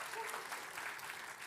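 Brief, faint church congregation applause for a married couple just baptized, a soft continuous patter of many hands clapping together.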